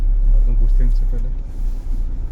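Car engine idling at a petrol pump, a steady low rumble close by under people talking.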